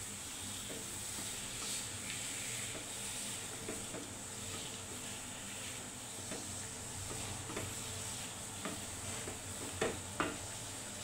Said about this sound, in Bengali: এগুলো দিয়ে লাউটাকে কষিয়ে নেবো সুন্দর মতো